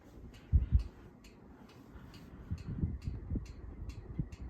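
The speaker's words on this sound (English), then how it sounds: "That ticking sound is the fan wobbling." A wobbling Harbor Breeze ceiling fan gives off light, regular ticking, a soft repeating click roughly every fraction of a second over a low motor hum, with a couple of louder thumps early on.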